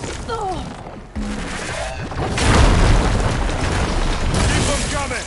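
A plasma weapon explosion in Horizon Forbidden West, a loud swelling boom that rumbles and crackles for several seconds, with a voice talking before and during the blast.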